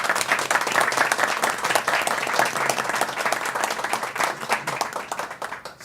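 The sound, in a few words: applause for the mayor Bruno Covas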